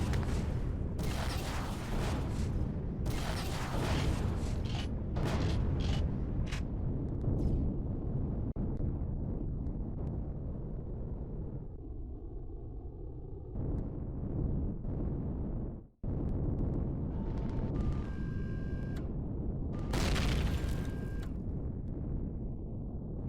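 Weapon fire and explosions in the game Empyrion Galactic Survival: a cluster of heavy booming bursts early on, a quieter rumbling lull, a sudden cut, then another loud blast near the end.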